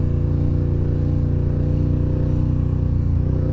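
Memo Jammer bike engine idling and rumbling close up with a steady low throbbing pulse, loud and continuous with no talk.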